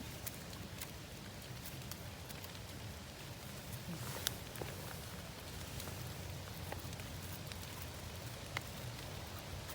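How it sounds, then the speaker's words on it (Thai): Rain falls steadily in a forest during mushroom picking, a faint, continuous patter with occasional louder drops and no talk. "ฝนตก"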